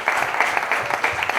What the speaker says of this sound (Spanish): creo que merece un fuerte aplauso